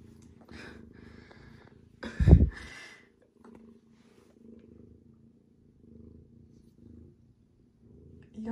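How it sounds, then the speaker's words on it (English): A cat purrs softly up close in low rumbling waves, with one louder snorting burst early on, otherwise quiet. "you hear him purring?"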